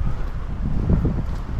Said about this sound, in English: It's mighty windy.